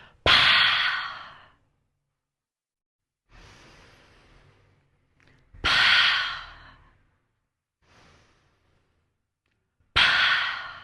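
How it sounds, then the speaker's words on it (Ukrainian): During a breathing exercise, a person takes deep inhales and releases loud, full exhales close to the microphone, three strong breathy exhalations separated by quieter intakes and pauses of near silence. "І знову зробили глибокий вдих і повний видих."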